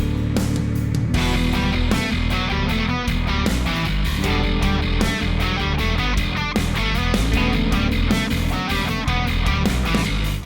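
An electric guitar weaves a melodic counterpoint line over a driving bass line, with drums keeping a steady beat in a full, dense band mix.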